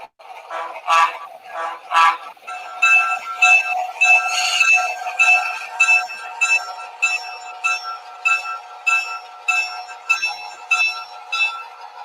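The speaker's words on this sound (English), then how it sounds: "the locomotive that I'm using is a Norfolk Western 3462 Athearn GP7" An Athearn HO scale GP7 model locomotive in Norfolk & Western livery, pulling 40 ft three-bay offset hopper cars, sounds a steady, evenly paced ringing bell tone that repeats about once a second and stays near and clear throughout.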